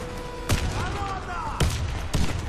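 Grenade blast in the shooter game Warface: sharp, booming bangs go off three times at irregular intervals over low battle noise and a short electronic warble.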